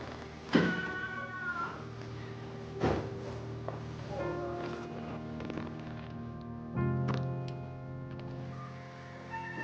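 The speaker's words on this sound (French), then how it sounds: "Le chat n'a pas mangé depuis 2 ou 3 jours" A cat that has gone two or three days without eating meows several times at a police station, with a few loud, drawn-out cries spread across the clip over a low background hum.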